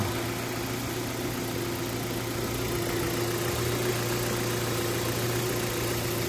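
A 2017 Kia Ceed engine idles steadily with a low, even hum and faint mechanical hiss, close and constant throughout with no speech.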